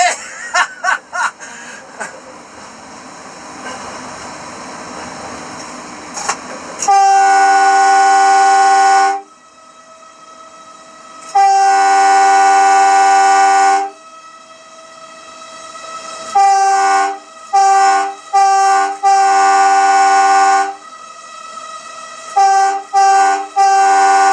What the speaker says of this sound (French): on va klaxonner un petit peu à Bruxelles midi